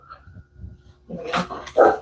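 A dog barks a couple of times close by, with low shuffling noise before the barks.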